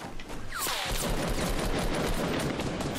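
Sustained automatic gunfire from Fortnite Battle Royale, a steady rapid rattle of shots lasting the whole moment at moderate loudness with no talking.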